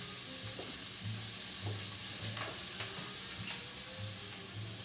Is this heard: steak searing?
yes